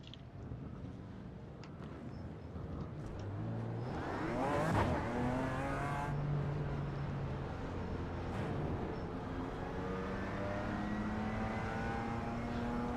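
BMW M4 GT4 race car in iRacing on the Nordschleife, its engine droning steadily throughout with rising gear-change sweeps and a louder revving swell near the middle, no voices heard.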